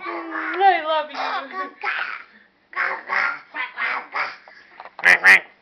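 A voice imitates a duck, repeating nasal quacking calls in quick pairs with short pauses between, close and fairly loud.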